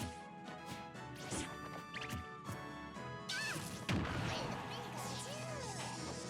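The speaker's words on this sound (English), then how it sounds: "we are just shielding forward smashes back and forth here" During a Smash tournament match, forward smash attacks land on shields, giving a string of loud, sharp crashes and thwacks with louder impacts in the second half over steady game sound.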